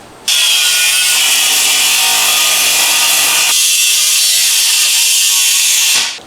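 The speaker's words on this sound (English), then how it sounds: "we're going to cut the hose connections off and relocate them both to this side of the" A power tool cutting the hose connections off an aluminum radiator, a loud, harsh, continuous grinding whine close up that shifts pitch midway and stops abruptly after about six seconds.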